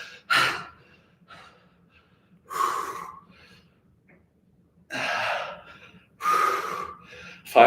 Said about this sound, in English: You guys get sick of my breathing in the mic